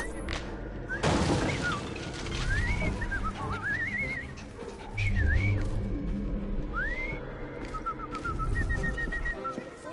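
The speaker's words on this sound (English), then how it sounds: "I've just learned to whistle." A character in the Assassin's Creed Syndicate video game whistles a string of rising and swooping notes over busy game ambience with low rumbles and background bustle, the tune wandering irregularly across ten seconds.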